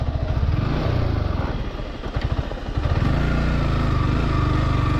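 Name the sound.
motorcycle engine running in first gear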